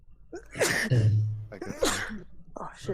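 A sharp sneeze from a player at a tabletop role-playing game session, loud and close, set between bursts of casual conversation.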